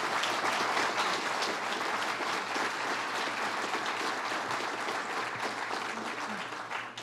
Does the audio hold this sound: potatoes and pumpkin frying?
no